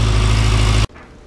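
A 2003–04 Kawasaki ZX-6R (636) motorcycle engine idles with a loud, steady low rumble, then cuts off abruptly, leaving quiet background.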